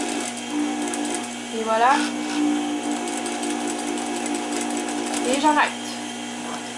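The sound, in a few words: sewing machine stitching a trouser waistband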